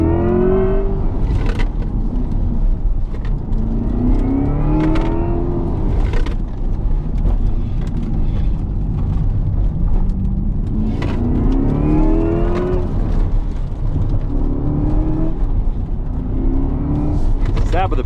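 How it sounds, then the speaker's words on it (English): A Chevy Corvette E-Ray launches hard under launch control, its engine pitch climbing repeatedly through gear changes in rising sweeps over a heavy, constant roar, loud and close from inside the cabin, with someone talking over it. "Starting our first run here, launch control, letting it go."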